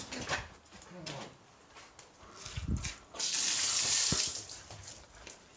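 Water running through a hose pipe into a sprinkler, a soft, steady hiss and gush that swells loudly for about a second midway and then eases off, with brief voices and thumps around it.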